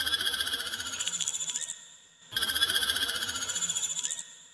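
A bright, rapidly pulsing synth squelch with a vocoded, croaking texture, in two sustained bursts separated by a short gap.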